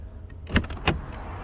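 Two short whirring motor pulses as electric rear-window sunshades deploy inside a 2015 Mercedes-Benz GL550 4Matic, close and quiet over a low cabin hum.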